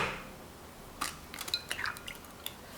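An egg is whisked into 280 ml of water in a large bowl, giving quiet scattered clinks and light tapping of utensil against the bowl, close and irregular, with no talking.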